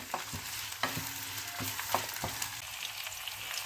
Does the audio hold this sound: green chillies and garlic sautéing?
yes